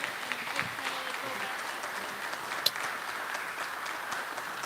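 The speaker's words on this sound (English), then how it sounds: "Big round of applause." An audience at a business hall of fame ceremony applauds with steady, dense clapping that fills the whole stretch, fairly close, with a faint voice or two underneath.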